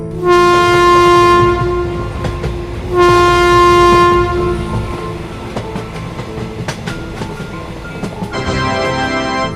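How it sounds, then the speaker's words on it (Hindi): A cartoon train pulls away from a station, giving two long sustained horn blasts followed by rattling wheel clatter and a final horn sounding again, loud and close with no voices. "जैसे ही सोन इतना कहता है तभी ये ट्रेन यहाँ से जाने लगती है।"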